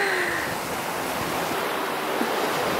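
Ocean waves and surf roll on a sunny day, a steady, full hiss of breaking water with some wind buffeting the microphone and no talking.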